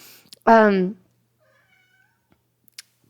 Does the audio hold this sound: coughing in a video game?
no